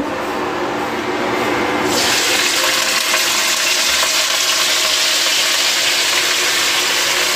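Leafy greens sizzle loudly in hot herbal oil in a pan on a gas heater, a steady hissing fry that jumps up sharply after about two seconds and stays dense and close.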